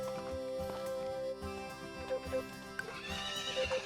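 A horse in a video game neighs and whinnies over clip-clopping hooves and steady looping game music, fairly loud and close.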